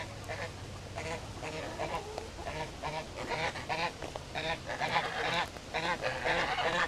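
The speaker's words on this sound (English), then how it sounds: "Look how big our geese are getting." Growing farm geese honk in an overlapping chorus, with repeated nasal calls in quick irregular bursts close to the microphone that continue throughout.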